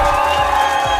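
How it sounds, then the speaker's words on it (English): Simulated crowd cheering keeps up as a brief, loud, unbroken roar of voices mixed with scattered applause. "That's a whole lot of cheering, but I do appreciate it."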